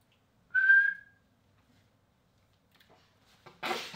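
A toy robot gives a short, clear rising whistle near the start, followed by quiet clicks and a brief burst of noise at the end.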